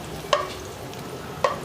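Garlic fries in oil with a soft, steady sizzle, broken by two sharp utensil clinks about a second apart, close and alone without any talk.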